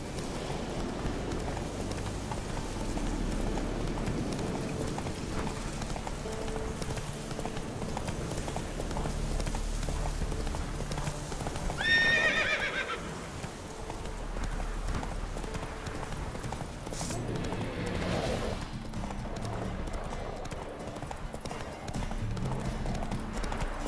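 In The Witcher 3 video game, the horse Roach gallops with a continuous rhythmic clip-clop of hooves over a steady game ambience, with a brief higher neigh-like cry near the middle.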